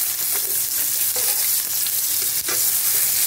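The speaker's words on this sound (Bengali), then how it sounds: "পেঁয়াজটা একটু লাল লাল করে ভেজে নেব" Chopped onion fries in a pan of hot oil with whole chilli, bay leaf and whole garam masala, giving a continuous loud sizzle broken by periodic stirring scrapes.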